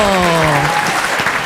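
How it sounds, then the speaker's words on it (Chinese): Studio audience applause at a televised singing-competition show, a short burst of clapping with a voice heard at the start. "掌声鼓励"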